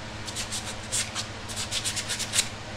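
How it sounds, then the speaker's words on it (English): A rusted brake rotor on a 98-05 Toyota 4Runner is sanded by hand, giving a series of quick scratchy rubbing strokes in an uneven rhythm, close and fairly quiet. "kind of rusted up looking, but now he's sanding it down."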